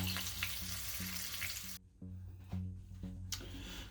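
Pork chops fry in oil with a continuous close sizzle, a bright hiss that cuts out for a moment and then returns over a low hum, with no talking.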